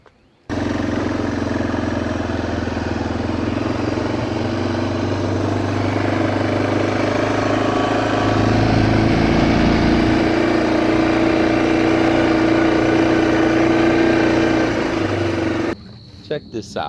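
A vehicle engine, close and loud, runs steadily while riding down to a garden, a continuous motor drone that holds almost evenly for the whole stretch before cutting off near the end.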